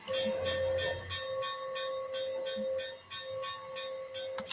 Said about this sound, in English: they did fit it with a Challenger bell from Union Pacific Challenger number 3970